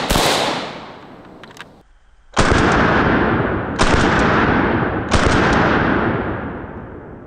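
AK-47 rifle firing 7.62x39 rounds into a giant sandbox backstop: three loud, sharp shots with long ringing decay, spaced roughly a second and a half apart, preceded by the fading tail of an earlier blast.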